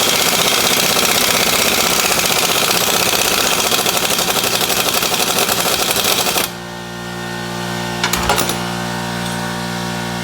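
Loud, fast rhythmic chugging of an air compressor in a garage during a 1980 Ford Fairmont rear-end job, pounding steadily before it abruptly cuts off, leaving a quieter hum and a brief clank.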